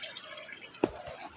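Mountain spring water in Azad Kashmir trickles faintly and steadily, broken by one distinct drip-like splash partway through, with no voices.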